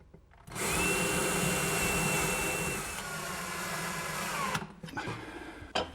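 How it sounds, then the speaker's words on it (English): A power drill whirs at high speed, then its pitch drops as it bites into wood boring a pilot hole, before stopping with a few clunks and handling noises. "drill a pilot hole for a couple screws"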